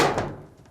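The top panel of a Fisher & Paykel dryer is shut with a single close, dull thunk that fades quickly into quiet.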